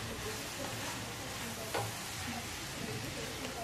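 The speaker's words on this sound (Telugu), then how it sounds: "టమాటా అంతా మెత్తగా అయిపోయి ఫ్రై అయిపోయింది" Tomatoes, softened and mushy, fry and get stirred in a pan for a beetroot and green peas tomato rice, a steady close sizzle with a brief utensil clink partway through.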